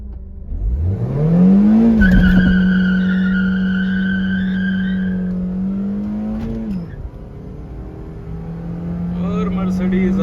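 A tuned Stage 2 Mercedes drag racing a Honda Civic, engine revving up loudly in a rising then steady drone that fades toward the end with a second engine note returning, voices talking underneath.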